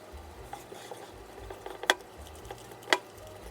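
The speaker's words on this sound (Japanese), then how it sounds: "あまり混ぜすぎないように混ぜます。" A utensil stirs banana bread batter of bread flour and baking powder in a bowl, making soft scraping swirls broken by two sharp clinks against the bowl, close by and with no voices.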